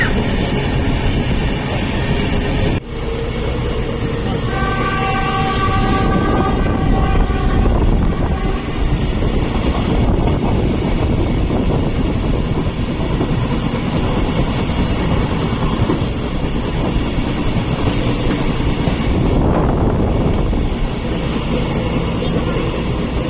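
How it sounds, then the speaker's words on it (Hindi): The Goa Sampark Kranti Express, train 12450, runs non-stop through Baira station on the West Central Railway, heard from on board as a loud, unbroken rumble with rolling wheel clatter throughout. "हमारी ट्रेन यहाँ से नॉन स्टॉप निकल रही है"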